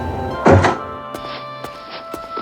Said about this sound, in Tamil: கதவு திறக்கிற சத்தம் கேட்டுச்சு